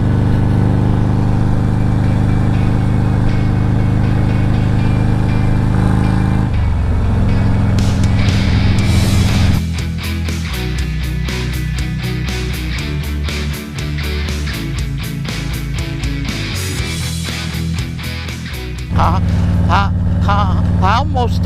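A motorcycle engine while riding along a country road, a steady droning hum with wind rush, then a rising rev and shift into a harsher, busier roar that holds before easing off near the end.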